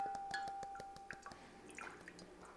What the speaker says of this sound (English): we'll just drain the liquid out of the coffee grounds